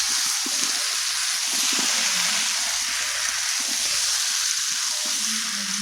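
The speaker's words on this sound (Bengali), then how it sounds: "ভালো করে কষিয়ে নেওয়া হলো।" Yam pieces cooked with turmeric, cumin, onion and green chilli hiss in a pan, a steady broadband sizzle holding evenly throughout with faint stirring scrapes beneath and no voices.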